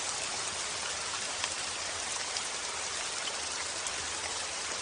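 Steady, dense rain falls continuously outdoors, an even hiss of drops with no pauses and no voices.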